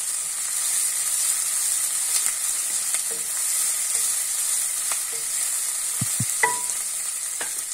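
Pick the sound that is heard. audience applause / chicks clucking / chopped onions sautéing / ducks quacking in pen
chopped onions sautéing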